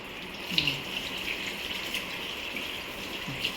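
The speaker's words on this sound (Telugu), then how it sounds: "సరే హ్యాండ్ వాష్ చేసుకుందాం తర్వాత." Water runs steadily from a kitchen or bathroom tap during handwashing, a soft continuous hiss with a few faint clinks, fairly quiet and without talk.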